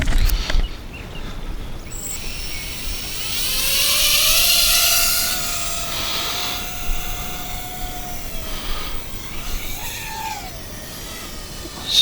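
A DYS X160 micro FPV race drone flies through the air, giving off a high buzzing whine that rises and falls as the motors speed up and slow down. The sound stays moderately close with no speech.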